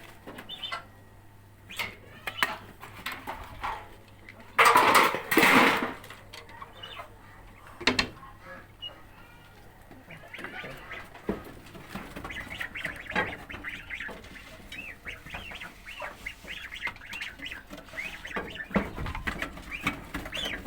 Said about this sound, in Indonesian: Ini anakan bebeknya kawan-kawan. Kira-kira umur 2 mingguan kawan-kawan.